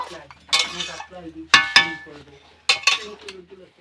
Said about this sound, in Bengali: একটু নাড়াচাড়া করে দিচ্ছি যাতে গন্ধটা সব কিছুর মধ্যে ভালো করে মিশে যায়